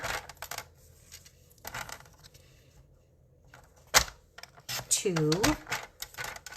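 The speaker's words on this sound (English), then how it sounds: "we're just going to cut 4 pieces down by 1 inch" Cardstock is cut into strips with a few sharp cutting strokes and clicks under a voice counting, close by at a crafting table.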